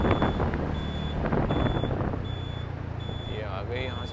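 Vehicles on a dusty road with a truck's reversing beeper repeating in a steady, evenly spaced pattern over low engine rumble, while a voice talks nearby.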